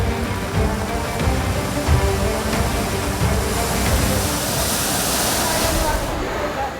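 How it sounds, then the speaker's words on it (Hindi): Roaring floodwater surging through overflowing street drains during heavy monsoon flooding, a loud, continuous broadband rush with a brief hiss swelling near the end. "दहाड़ मारते नाले"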